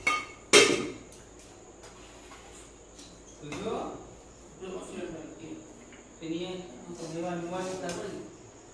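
Plates and a serving spoon clatter while rice and chicken are dished out at home for dinner, starting with one sharp metallic clank followed by softer scattered knocks as someone talks.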